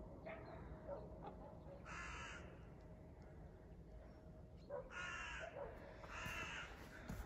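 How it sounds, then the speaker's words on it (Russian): Crows cawing outdoors, several loud harsh calls in separate bursts spread across the clip against a rough background of wind or ambient noise. "Вороны орут."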